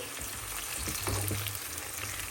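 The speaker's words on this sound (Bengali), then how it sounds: "এখানে কই মাছ রান্না করছি" Koi fish frying in a pan, a continuous close crackling sizzle with a brief louder burst in the middle, no voices.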